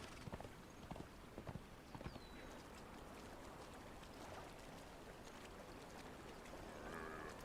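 Horse hooves clip-clopping in a video game, a steady rhythmic trot close by over a faint flowing-water ambience, with no talk heard.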